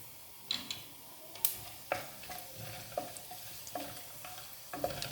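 Fennel seeds and spices sizzle in hot oil in a pressure cooker for chicken biryani, a soft steady fry broken by sharp, irregular clinks of a stirring spoon.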